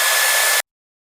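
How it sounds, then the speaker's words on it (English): A hair dryer blows at close range into an opened car reverse camera to dry water inside, giving a loud, steady airy rush that cuts off abruptly after about half a second. "I got a hair dryer."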